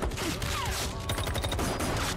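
Dense rapid gunfire from a film scene, a continuous rattle of overlapping shots filling the whole moment, loud and close, with no speech over it.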